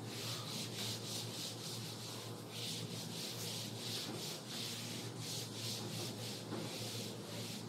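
Repeated rubbing strokes of a duster wiping writing off a board during a physics class, steady back-and-forth swishes filling the stretch with no talk.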